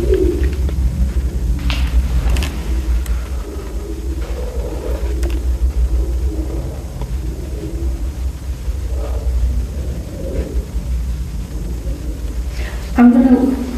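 Pigeons cooing inside an abandoned RAF airbase at Kenley, soft low coos recurring over a steady rumbling background hum, with faint movement noises and a brief louder sound near the end.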